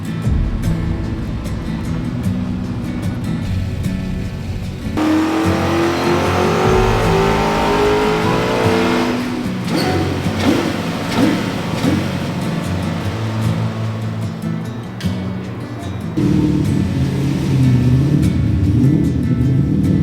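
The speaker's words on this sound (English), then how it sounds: "It sounds a hell of a lot better with the silencers, doesn't it? You can actually hear that it has 8 cylinders." A powerful V8 car engine fitted with silencers revs up and holds a deep, throaty rumble, climbing in pitch before settling, loud and close with no talking.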